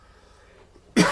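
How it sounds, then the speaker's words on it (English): A single sharp cough bursts out near the end after a stretch of quiet room tone, loud and close. "I'm gonna cough."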